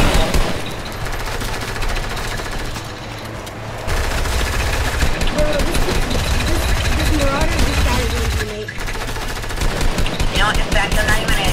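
Rapid automatic gunfire in the Fortnite video game rattles in dense, continuous bursts throughout, loud and busy, with a brief drop in intensity partway through.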